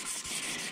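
A power sander grinds against the surface of a pot in a continuous, close, rough abrasive hiss for under a second, with no speech.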